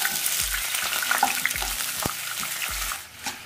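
Small bird's eye chillies with stems still on sizzle and crackle steadily in hot oil for a homemade pickle, with a few soft stirring knocks and no voices.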